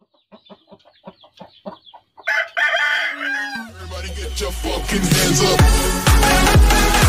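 Chickens cluck in short repeated bursts, then a rooster crows loudly over steady background noise and continued clucking.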